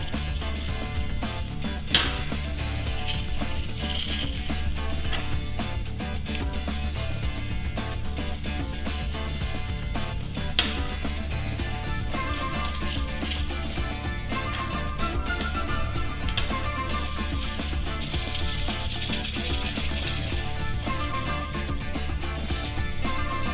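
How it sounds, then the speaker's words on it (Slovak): Magnesium is poured into a balloon during a school chemistry demonstration that makes hydrogen, giving a continuous light metallic rustle and clinking with a few sharper clicks, close and steady throughout. "je presypať horčík do balóna."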